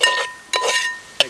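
A utensil stirs fish masala with Kashmiri chilli powder in a pan, making three loud scraping strokes with a sharp metallic clink at the end, close and without talking.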